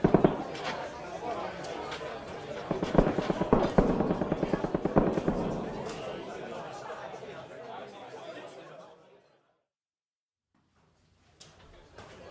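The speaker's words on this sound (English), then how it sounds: "And that's machine gun fire." Rapid bursts of machine gun fire crackle loudly in a wartime radio drama, dense and repeated for about nine seconds amid voices and clatter, then cut to near silence with a faint sound at the end.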